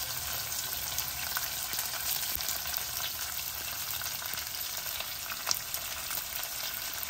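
Sliced onions and curry leaves frying in oil for majjiga charu, an even, continuous crackling sizzle heard up close, with one brief sharper stir near the end.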